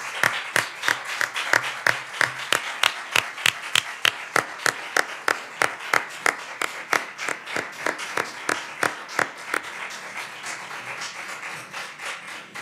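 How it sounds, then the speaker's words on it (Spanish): An audience at a nursing history conference gives a talk a round of applause: sharp, evenly spaced claps that sound like one steady rhythmic clap, continuing at length at moderate distance in a large hall. "yo pido un aplauso para Carmen."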